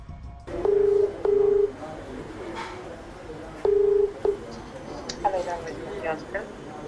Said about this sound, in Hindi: हमारे संवाददाता अभिषेक आनंद ने दिल्ली के 14 सरकारी और प्राइवेट अस्पतालों में फोन किया।